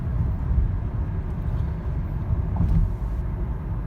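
Steady low engine and road rumble from a 2010 Lexus ES350 with a 6-speed automatic, cruising smoothly at an even, moderate level with no talking.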